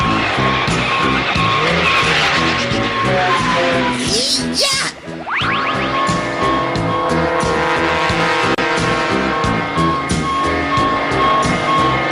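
Loud, close car engines roar and tires skid with long squeals during a car chase in a Perman cartoon, the revving continuing steadily across the whole scene.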